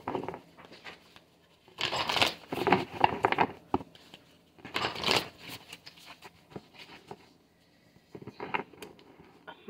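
Tarot cards are shuffled in short bursts of soft papery riffling and patter, quiet and close, separated by brief pauses.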